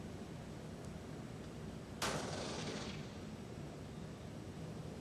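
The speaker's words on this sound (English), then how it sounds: "Organization successfully conducted the first phase of field firing trials of Indian light tank Zorawar." The Indian Zorawar light tank fires its main gun during field trials in desert terrain, a single sharp distant blast with a brief rumbling tail over steady background noise.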